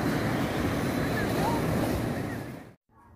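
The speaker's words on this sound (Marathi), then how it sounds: "हे बघा, पाहू शकता मोठी लाट आहे." Big sea waves roar and wash in at Colva beach, Goa, a loud continuous surge with wind buffeting the microphone, cutting off abruptly near the end.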